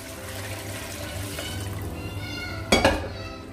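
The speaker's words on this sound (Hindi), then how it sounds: "अब हम इस यखनी को ऐड करेंगे गोश्त में।" Mutton yakhni stock pours into a pot of cooked meat, a steady watery rush with a louder splashing gush near the end, close up in a kitchen.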